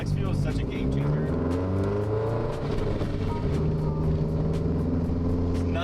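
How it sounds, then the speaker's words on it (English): A turbocharged Subaru GC8 on flex fuel rumbles and revs in a steady, loud run, its engine tone rising and falling under someone talking throughout. "Hopefully you guys can hear all the beautiful turbo noises that this thing makes"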